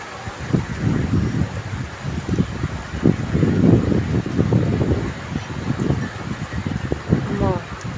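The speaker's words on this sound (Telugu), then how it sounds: "గాలి అయితే బాగా వేస్తుందండి విపరీతంగా" Strong gusty wind during heavy rain in a village near Vijayawada buffets the microphone in rough, uneven bursts and roars, with a voice talking over it.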